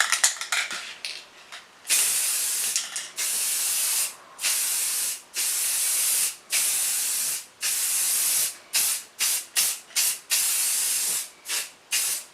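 Spray paint hisses onto the lace side of a mandolin in a run of close, loud bursts of varying length separated by short gaps, with no voices.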